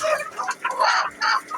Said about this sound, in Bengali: এখানে হচ্ছে দেশি মুরগি 4টা আর একটা মোরগ।